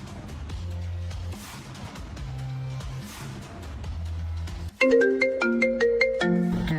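A phone call to a boss starts with a low repeating tone, then a loud melodic ringtone of bright, stepped notes cuts in for the last two seconds, clear and close.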